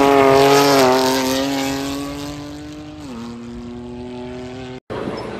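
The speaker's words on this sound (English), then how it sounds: "there's a really cool M4 that's back here that they just started up" A BMW M4 road race car idles steadily at a track day in Perry, Oklahoma, its engine a loud, close, even drone that dips slightly in pitch partway through before cutting off abruptly.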